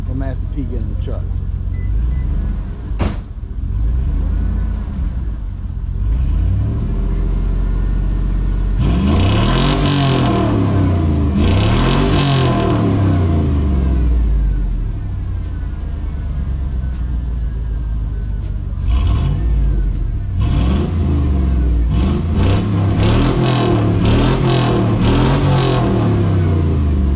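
A 2002 GMC truck with a 4.8 engine breathing through a single Cherry Bomb Vortex exhaust, revving up and falling back repeatedly with deep rising-and-falling sweeps, loud and close, with a few brief quiet gaps between pulls.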